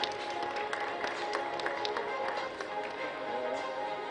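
Audience at an award ceremony at the Indiasoft 2025 and India Electronics Expo, steady loud applause of many hands clapping continuously through the clip.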